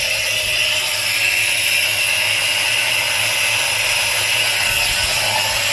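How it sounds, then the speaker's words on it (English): A power drill bores through porcelain paving slabs for garden steps, a continuous high-pitched grinding whine held at a steady level, close by and alone. "I'm going to drill each one of these."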